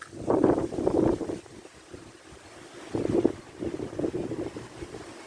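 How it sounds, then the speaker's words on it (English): Strong gusts at a fishing lake batter the microphone in heavy, rumbling bursts that rise and fall, with no talking. "This wind is unbelievable."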